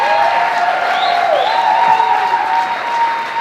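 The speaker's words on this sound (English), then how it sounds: "Give her another round of applause." Audience applause at a political speaking event, a soft, steady hiss of clapping at moderate distance, with faint tonal sounds and voices mixed in underneath.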